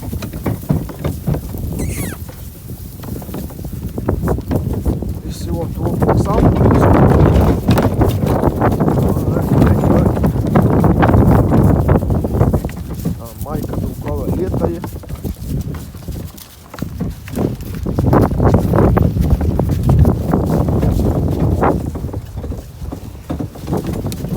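Draft horses being led on a walk, hooves clip-clopping steadily and close by, with people talking over much of the sound.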